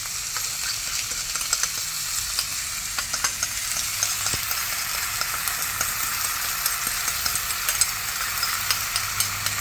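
Pad krapow frying in a pan after its sauce is added, a steady loud sizzle with scattered crackles and occasional stirring scrapes, close up and without talk.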